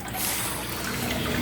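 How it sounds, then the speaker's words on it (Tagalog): An aquarium air pump bubbles water in a home fish tank, giving a continuous close hiss of fizzing bubbles with no talk. "Air pump ito. Nakakapag-produce yun ng oxygen sa tubig."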